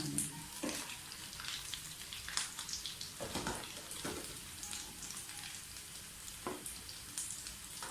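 Semolina potato fries frying in hot oil, a steady close crackling sizzle with occasional louder bursts of bubbling, continuous and without voices.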